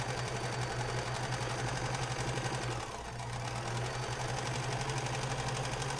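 A sewing machine back stitching a mitten gives a steady, even mechanical whirr and rapid needle chatter for several seconds, nearby and moderately quiet, with one brief dip near the middle and no talking.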